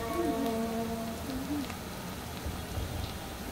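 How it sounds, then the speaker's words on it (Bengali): Onions frying in a pan with cumin, coriander powder and salt for a Bihari-style egg bhuna, giving a steady, close sizzling hiss that runs unbroken throughout. "এবার পেঁয়াজগুলোকে মশলার সাথে হালকা একটু ভেজে নেব"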